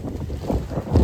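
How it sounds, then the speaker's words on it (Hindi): Strong wind gusting by a swimming pool, heavy low-pitched blustering against the microphone, steady and close with a louder gust at the end. "यार सही हवा चल रही है।"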